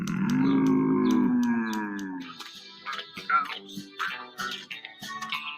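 A voice imitating a cow's moo, drawn out and loud for about two seconds, then broken-up speech-like sounds follow, read aloud in a children's farm story.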